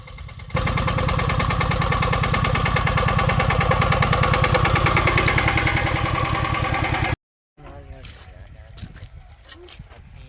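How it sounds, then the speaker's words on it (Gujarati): A tractor engine in a farm field where furrowed beds are being prepared runs loud and close with a steady rapid chugging pulse, then cuts off abruptly; afterward only faint background sounds remain. "ક્યારા બાંધવા માંડ્યા આપણે ટ્રેક્ટર ચાલુ છે"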